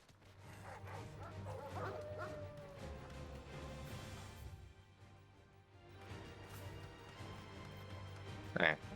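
Dogs barking in the video game Final Fantasy 16, a short burst of yips near the end over low game ambience and a sustained hum.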